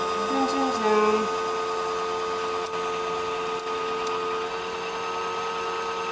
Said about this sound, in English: Winding your bobbin.